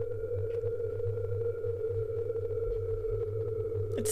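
An eerie hallway distortion anomaly from the horror game Observation Duty, heard as a steady loud droning hum with a low rumble beneath, holding unchanged throughout and swelling briefly at the very end.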